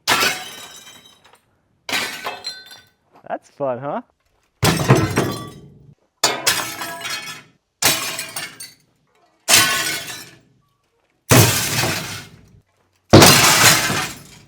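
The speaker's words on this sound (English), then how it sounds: "Some old windows here. I mean, they're all pretty much broken, so gloves probably would have been a wise choice." Old glass window panes in an abandoned barn shatter and break repeatedly, about seven loud, close crashes with ringing fragments, separated by short silences; someone speaks briefly once between the breaks.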